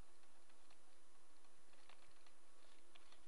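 Rapid typing on a computer keyboard, faint close key clicks pattering in an uneven stream over a quiet room hum, with no speech.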